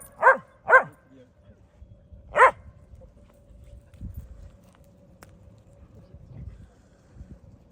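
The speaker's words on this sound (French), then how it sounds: "Ouais, un chien." A dog on a group walk gives three sharp barks in quick succession near the start, then only faint rustling and footsteps follow; people speak quietly in the background.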